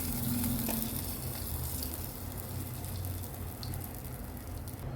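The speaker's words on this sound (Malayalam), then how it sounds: "ഇപ്പോൾ അതാ ഉള്ളി ഞാൻ മൂപ്പിച്ചിട്ടുണ്ട് അത് ഇതിലേക്ക് ഇട്ട് കൊടുക്കാം" Fried onions tipped into a hot egg curry hiss and sizzle loudly at first, settling into a steady bubbling fry with a few faint clinks, no talking.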